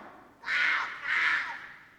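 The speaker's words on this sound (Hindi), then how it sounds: "कौवा भी काव काव करता हुआ बोला" A crow gives two harsh, loud caws close by, each drawn out for about half a second with a brief gap between them, over quiet background hiss.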